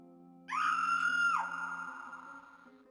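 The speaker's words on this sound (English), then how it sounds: "You hear a woman scream in the distance." A woman's scream rings out in the Return of the Phantom video game, a single rising, sustained cry lasting about a second, then fading into a lingering echo over a low ambient drone.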